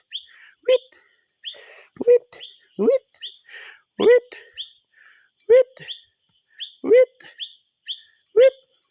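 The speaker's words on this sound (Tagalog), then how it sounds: "Ibon." A bird chirps in a quick repeating pattern of sharp, bright calls, fairly close, with quiet gaps between them.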